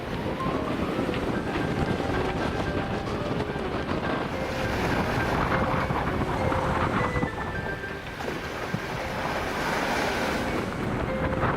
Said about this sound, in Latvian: Sāka veidoties milzīgs okeāna vilnis.